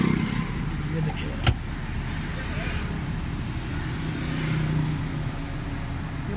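Suzuki Cultus EFI engine idling at 800 rpm after a throttle position sensor and tappet fault repair, a steady low hum with the air conditioning running, one sharp click, and someone talking over it.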